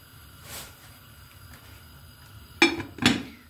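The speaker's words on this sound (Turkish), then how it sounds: "Tenceremin kapağını kapatıyorum." Metal lid set onto a cooking pot of artichoke dolma in hot water, giving two close, sharp clinks in quick succession after a soft earlier rustle, in a quiet kitchen.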